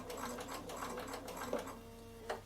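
A Bernina sewing machine zigzag-stitches wool applique, a fast, steady mechanical whirr with rapid rhythmic needle clatter, close and continuous with a brief pause near the end.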